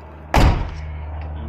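A door on a BMW E36 shuts with one solid, close thud, followed by a short fading rumble and quiet room noise.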